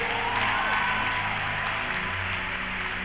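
Audience clapping at a church sermon, a dense continuous patter of many hands held at an even loudness throughout, with no one speaking over it.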